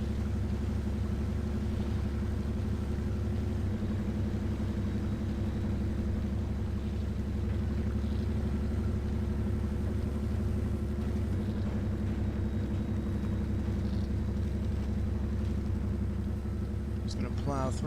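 A truck engine in the Mudrunner game drones steadily as the vehicle pushes through deep water, a low continuous rumble held at constant throttle for the whole stretch, with a voice talking over it.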